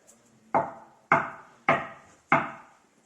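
Four evenly spaced, fairly loud knocks on a wooden door ring out alone and close by, each with a sharp attack and a short fading decay.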